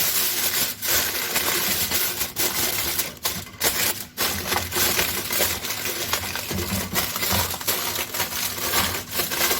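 Sheets of aluminum foil are handled close up while oven chicken mandi with rice is prepared, making loud continuous crinkling and crackling with sharp clicks and brief dips.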